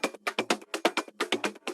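Three tech house drum loops layered together, each processed with EQ and sidechain, form a dense, driving percussion pattern of quick repeated hits and short low thumps, played alone at a steady rhythm.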